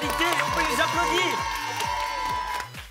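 A studio audience claps and cheers for tied student quiz teams on a school TV-style quiz show, a loud crowd burst under bouncy music and a sustained tone, fading at the end.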